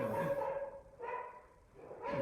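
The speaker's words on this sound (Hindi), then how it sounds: "अरे इस कुत्ते को क्या हो गया?" A dog barks and yips repeatedly indoors in quick bursts, fairly loud and close, with brief pauses between the barks.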